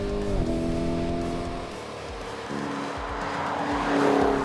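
A Lamborghini Urus SUV corners hard on a race track, its engine note shifting pitch through the turn while tires squeal and skid, loud and close with no talk.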